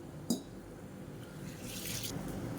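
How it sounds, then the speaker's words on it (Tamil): Sago and urad dal being washed in water: a small splash, then soft sloshing and running water that grows slightly louder, close by with no talking. "இது எல்லாத்தையும் நல்லா 2-3 தடவை கழுவிட்டு பார்க்கலாம்."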